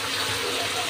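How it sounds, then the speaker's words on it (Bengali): Water pouring into a pan of lentils and taro stolons makes a brief, steady gushing rush lasting about a second. "এবার আমি পানি দিয়ে দেবো,"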